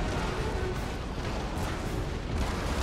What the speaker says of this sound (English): let's give them a full broadside if we can